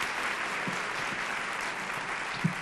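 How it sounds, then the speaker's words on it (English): Conference audience at the 2018 National Family & Community Engagement Conference applauding young people, a steady even patter of many hands clapping at moderate volume, with a few louder claps near the end. "Let's give them a round of applause again."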